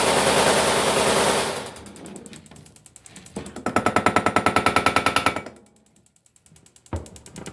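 A compact 0.7 Tesla BBMPulser 2B3 PEMF unit fires a loud, rapid train of mechanical clacking pulses, with bursts starting and stopping across the stretch and a short quiet gap near the end.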